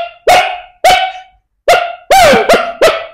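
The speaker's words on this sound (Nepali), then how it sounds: "एउटा बारदलीबाट भोकिरहेको छ नयाँ कुकुर आयो" A dog barks from a balcony in six sharp, loud, close barks, spaced irregularly with brief silent gaps, and the last few come in a quicker cluster.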